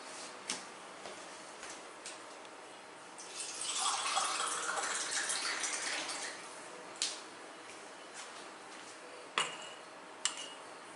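Water pours steadily for a few seconds into thin-crust Italian pizza dough being mixed by hand, a soft gushing stream between scattered light clicks and taps, close and fairly quiet with no talking.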